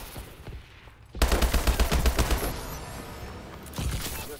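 A 360 turret fires in an online shooter video game, letting off a loud, rapid burst of close automatic gunfire that slows into scattered shots, followed by a later echoing blast.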